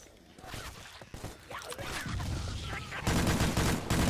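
AK rifle fire in the zombie shooter Left 4 Dead 2 rattles in rapid bursts, building to loud continuous automatic fire near the end, with players talking over it.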